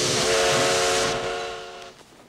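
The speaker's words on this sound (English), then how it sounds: "Train from Boston is arriving on track 29." A steam train's whistle blows loud and steady with a rush of hissing steam as the train arrives at a station, then fades away over about two seconds.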